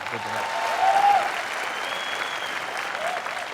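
A television studio audience at a comedy show gives sustained, loud applause, dense and steady from start to finish, with a faint voice underneath.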